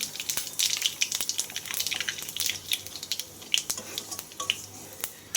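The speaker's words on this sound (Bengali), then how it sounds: "ওই কড়াইতেই আমি তেল দিয়ে দেবো তেলটা দেখো গরম হয়ে গেছে তেল দিয়ে আবার আমি এখানে জিরে আর কালো জিরে আর তেজপাতা ফোড়নে দিয়ে দিচ্ছি" Cumin, nigella seeds and bay leaf in hot oil in a kadai crackle and spit, with irregular quick pops and light sputtering over a soft hiss.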